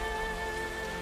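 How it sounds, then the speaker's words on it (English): Rain falling in Nancy Drew: Trail of the Twister, a brief steady wash of rainfall with a faint tonal hum beneath, no voices. "Thunder, and rain."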